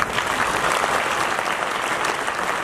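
Steady, dense audience applause fills a poetry recital, many hands clapping at an even level throughout with no voices breaking through.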